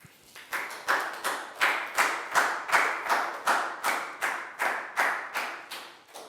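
A classroom of Year 4 students claps in a steady, rhythmic beat for a classmate during a maths lesson, each clap sharp and close, repeating evenly over several seconds.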